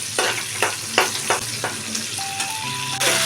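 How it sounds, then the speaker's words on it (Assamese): Dried fish and spices, including ground dried chillies with bhedailota, sizzle in a hot pan while being stirred, with about five regular scraping strokes cutting through the steady frying hiss; a few faint tonal beeps appear near the end. "আৰু এইখিনি অকণমান দেৰি মই ৰঙচুৱা হোৱালৈকে ভাজি ল'ম।"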